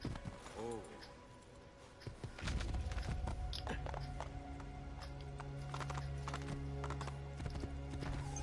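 Horse hooves clip-clop steadily in Assassin's Creed 2 Remastered, a continuous walking rhythm over game ambience and music, with a brief whinny near the start and some speech-like sound mixed in.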